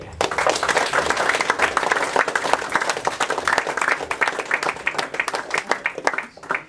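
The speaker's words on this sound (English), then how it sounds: "let's a round of applause again" A crowd applauds steadily at a club prize night, a dense wash of clapping that carries across the whole stretch and thins into scattered claps near the end.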